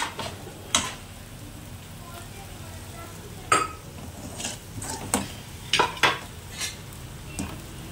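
Spiced potato masala filling for masala dosa fries in a pan with salt, chilli powder and garam masala, giving a soft steady sizzle broken by repeated scraping and clinking of a spoon against the pan.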